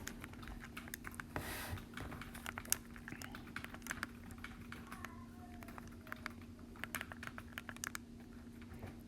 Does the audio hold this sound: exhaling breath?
no